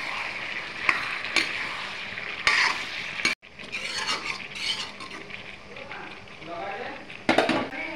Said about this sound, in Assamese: এতিয়া ইয়াতে কাটি লোৱা কোমোৰা আৰু আলুখিনি দিম, দি ধুনীয়াকৈ মিলাই ল'ম।